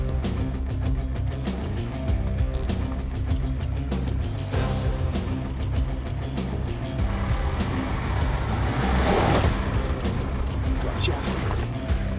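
A 4WD grinds over logs on a Tasmanian bush track, its engine droning loud and steady with low rumbling harmonics, and a rougher crunching surge midway as the wheels climb.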